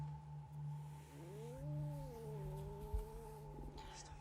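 Cat vocalization from the 1992 horror film Sleepwalkers, a drawn-out rising and falling yowl with wavering pitch, heard over a steady low hum and film soundtrack, moderately loud and close.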